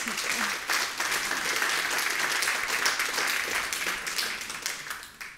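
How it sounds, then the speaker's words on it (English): A church congregation at a Church of Scotland live-streamed gathering applauds, a dense, steady round of clapping from a crowd that swells quickly and tapers off near the end. "Let's give Will a round of applause for that time."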